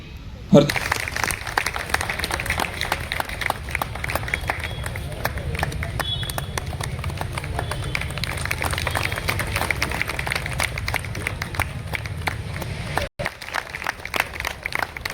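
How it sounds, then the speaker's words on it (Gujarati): An audience at an evening event honouring martyred soldiers in Junagadh claps loudly and continuously, dense rapid clapping from a large crowd with a faint murmur of voices, running for many seconds before a brief dip near the end. "એકવાર જોરદાર તાળીઓ થઈ જાય"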